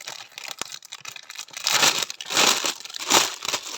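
Plastic wrapping on a package holding a cushion cover and embroidery threads crinkles and tears as it is opened, in bursts of close rustling that grow louder toward the end.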